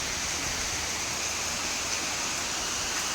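A steady, close rush of flowing rainwater floods past during heavy rain in Uppala, Kasaragod, Kerala, forming a constant broadband wash with no breaks or voices.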